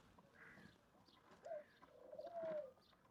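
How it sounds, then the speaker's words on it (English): Small pigeons cooing in a home in a Bulgarian village: soft, low coos that come and go, faint and fairly distant against a quiet room. "These are like small pigeons"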